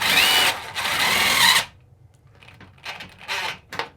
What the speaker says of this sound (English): we got our stainless screw. We got a hole that's already done, and we're just gonna go ahead and, it's a self-tapper.